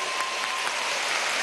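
Applause from a crowd at a Venezuelan political rally, honoring the Venezuelan people: dense, steady clapping throughout, with a faint tone running beneath it.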